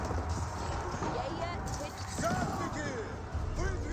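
Rapid hoof clip-clops of horsemen galloping in Age of Empires 4, mixed into busy game noise with shouting voices and clashing over a steady background din.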